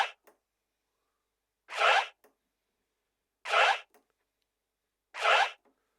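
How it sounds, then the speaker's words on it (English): A DJ performs forward scratches with a jog wheel and crossfader, producing three evenly spaced, sharp, close scratch bursts of about a third of a second each, separated by silence, with a shorter blip at the start. "The forward scratch involves you taking your hand off the jog wheel, letting the sound play, and then turning the crossfader off"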